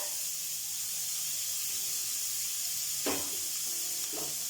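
Onion and curry leaves dropped into hot oil with cumin sizzle softly and steadily, a gentle hiss with a couple of brief, sharper crackling bursts toward the end, quiet overall and without voices.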